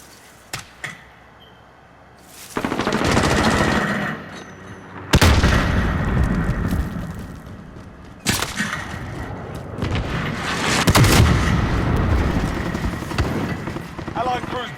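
Launch of a cruise missile killstreak in Call of Duty: Modern Warfare, heard as loud whooshing roars and booming blasts in several surges, with scattered clicks before and a voice speaking over the action.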